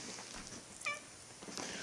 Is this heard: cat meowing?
yes